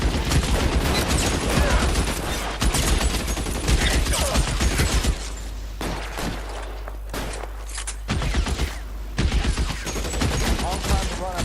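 Rapid bursts of gunfire in LA Noire, loud volleys of shots crackling through most of the stretch with brief pauses between exchanges, mixed with game sounds.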